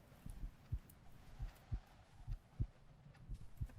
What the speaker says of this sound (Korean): 심장 소리?